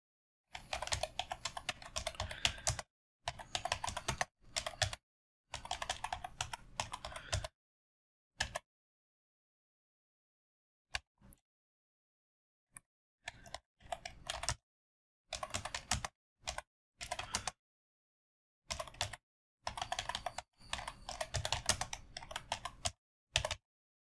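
Close computer keyboard typing as text is entered into a field in Website X5 Professional web-design software, coming in quick clattering bursts separated by silent pauses, with no talking.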